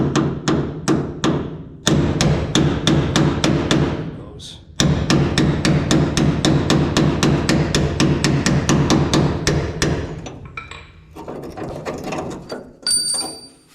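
A hammer drives a roll pin punch on the sagging door hinge of a 1965 Dodge Coronet 500, ringing out in fast, steady metallic strikes, with a short pause, then another long run of hits before lighter, scattered taps.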